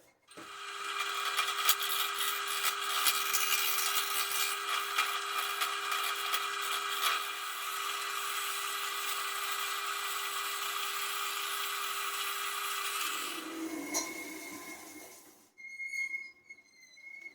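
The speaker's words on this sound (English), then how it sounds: "I'm going to sand down any parts of the resin that are protruding more than a couple of millimeters from the rest of the bowl's surface" Sanding protruding resin on a pear wood bowl produces a steady, loud abrasive whine lasting about thirteen seconds with a constant pitch. It cuts off sharply, followed by brief quieter scraping and rustling.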